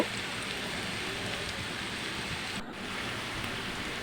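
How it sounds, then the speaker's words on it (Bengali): Chopped onions sizzle while being fried and stirred in a pan, a soft, steady crackle with a brief dip partway through and no voices. "আমি আবারও পেঁয়াজটাকে নাড়াচাড়া করে একটু ভেজে নিচ্ছি"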